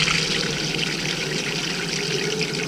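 Waste water from an RV black water tank rushes steadily through a drain hose into a dump outlet, a continuous close, even gushing and trickling flow with no speech.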